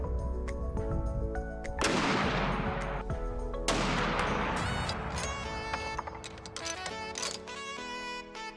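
.50 caliber gunfire rings out in heavy, booming shots. Two large blasts roll off with long tails, set among sharper repeated cracks and a continuous low rumble.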